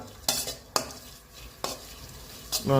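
A spoon stirs garlic, ginger, chopped onion, dried chilli and cinnamon in a dry pan, making several distinct scraping strokes close up over a low steady background, with no voices.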